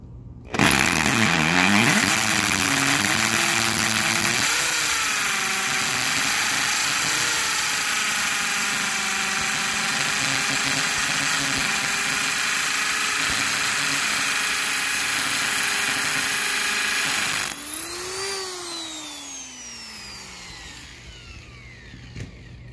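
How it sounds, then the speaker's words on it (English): A power drill runs at very high speed, boring a hole into cement with a loud, steady, close-up whine that holds for about seventeen seconds. It then cuts off and winds down. "It really helped to go on the super high speed and put some pressure on the back of the drill."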